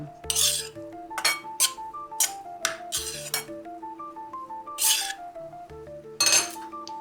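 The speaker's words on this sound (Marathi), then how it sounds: "आता हे परत छान असं एकत्र करून घ्या" A spoon mixes rava ladoo inside a metal vessel, giving bright clinks and scraping knocks in irregular bursts. Ringing metallic overtones hang between strikes, heard close up with no talking.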